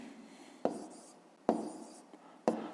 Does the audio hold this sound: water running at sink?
no